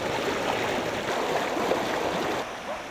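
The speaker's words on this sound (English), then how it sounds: "Here in Logan, the snowdrifts of yesterday are the torrent of water today." Snowmelt floodwater in Logan pours by as a steady rushing torrent, a dense continuous wash of water noise that eases slightly near the end, with no speech.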